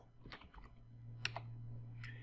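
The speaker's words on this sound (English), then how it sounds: "I'm going to type in where it's at" A command is typed on a computer keyboard: a handful of light key clicks, close and quiet, with a brief louder tap near the middle, over a steady low electrical hum and no talking.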